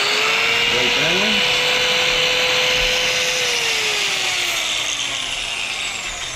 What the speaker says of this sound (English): the way the floor is coming off is with my trusty grinder over here. I've got a diamond bit blade on it